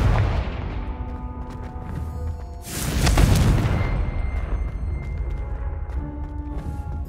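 A Confringo fire spell explodes in the Hogwarts Legacy video game. A single loud boom bursts out about halfway through and trails into a rumbling decay over a dense, tonal background.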